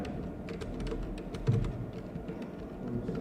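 Keys clatter on a computer keyboard while a database table is set up, a close run of quick, uneven taps throughout without speech.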